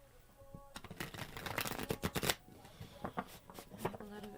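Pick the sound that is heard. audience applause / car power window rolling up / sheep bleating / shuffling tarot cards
shuffling tarot cards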